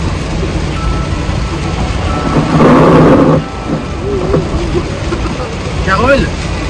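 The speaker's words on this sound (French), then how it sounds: "ici, quand il pleut, il pleut" Heavy rain pours steadily on a Florida roadside during a road trip, a broad hiss that swells loudest for a moment near the middle, with voices talking over it at times.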